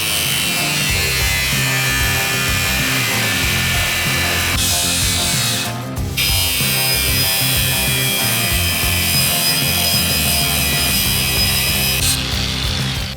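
Metal brake caliper bracket being reshaped with a power tool, a loud continuous grinding rasp with shifting pitch and a short break midway.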